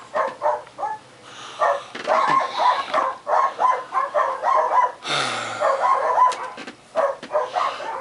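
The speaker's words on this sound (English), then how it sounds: "Silly dogs." Dogs bark in short repeated bursts indoors, with yips and a brief whimper between the barks, fairly close and loud throughout.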